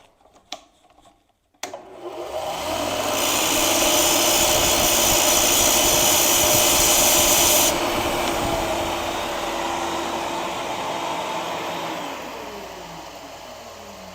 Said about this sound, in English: we have to taper the end of this shaft just a little more